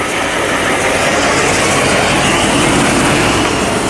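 A trailer-mounted 70HP cold-water sewer jetter pumps 18 gallons a minute at 4,000 PSI through a 12 inch line, producing a loud, steady, unbroken roar of engine and rushing high-pressure water throughout.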